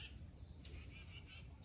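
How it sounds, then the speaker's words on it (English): Pet birds calling indoors, faint high chirps and squawks drifting in the background over a low steady room hum. "Watch my birds."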